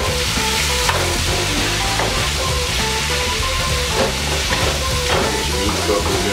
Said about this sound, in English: Get our meat browning.